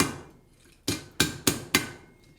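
A horseshoe being forged into a door handle is struck on an anvil, four sharp ringing hammer blows in quick succession after a quiet pause, close and clear with no speech.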